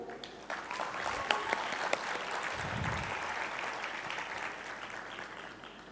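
An audience at an opening plenary session bursts into applause, a dense, even wash of clapping that fills the room and tapers slightly toward the end, with a few louder claps standing out.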